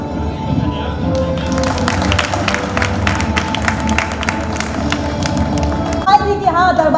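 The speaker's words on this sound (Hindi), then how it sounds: "मनस्वी व्यास के लिए भी जोरदार तालियां" An audience at an award ceremony in the Darbar Hall in Udaipur applauds steadily with dense clapping that fills the hall, while an announcer's voice carries over it.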